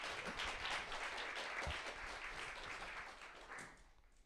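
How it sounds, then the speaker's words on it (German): Audience applause at a live stage event during a China-themed weekend festival, a moderate spread of clapping heard from some distance that fades gradually toward the end. "Nochmal einen Applaus für dich."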